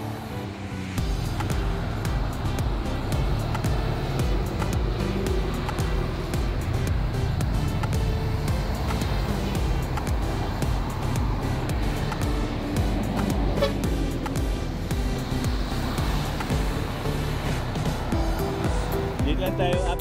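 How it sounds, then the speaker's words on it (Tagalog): Heavy expressway traffic heading toward Manila makes a steady, dense roar of engines and tires that holds constant throughout, with voices mixed in at times. "Going to Manila traffic."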